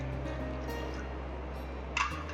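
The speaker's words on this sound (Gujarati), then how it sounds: "અને તેના સામે બરોબર દોઢ વાટકો પાણી ઉમેરવાનું છે" Water poured from a bowl onto sugar in a pan to start the syrup for semolina (rava) barfi: a steady, close liquid trickle over a low hum, with a brief brighter splash near the end.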